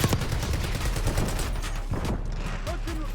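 Rapid automatic gunfire in a Black Ops 6 multiplayer match, an LMG among the weapons, with dense overlapping bursts running continuously and loudly throughout and a voice talking underneath.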